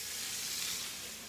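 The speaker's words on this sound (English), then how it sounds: "And it's sizzling nicely in here" Chopped chicken coated in gluten-free flour sizzles steadily in a frying pan, a close, even frying hiss with no pauses and no voices.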